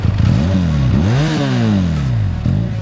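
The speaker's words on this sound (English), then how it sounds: "the most exciting thing about this powertrain is its exhaust noise" A Benelli Leoncino 500 motorcycle engine revs up and down in quick swells, its throaty exhaust rising and falling in pitch, loud and close.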